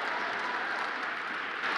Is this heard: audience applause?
yes